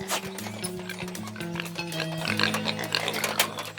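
Hungry pigs grunt and oink at feeding time, a busy chorus of close snorts and squeals that grows livelier toward the end.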